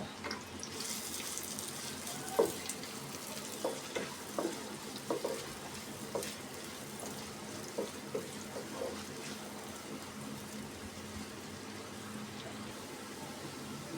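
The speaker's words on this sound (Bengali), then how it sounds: "এখন আমি পেঁয়াজটা দিয়ে দিচ্ছি। পেঁয়াজটা লাল লাল করে একটু ভেজে নিব।" Onions frying in a pan, a continuous sizzle with soft scraping and stirring taps at irregular intervals, heard close and alone without talk.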